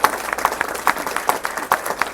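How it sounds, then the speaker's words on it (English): Audience applause at a comedy show rising to greet the first act, a steady rattle of clapping hands with a few louder claps standing out. "let's have a round of applause to get ready, to get fired up for your first act this evening"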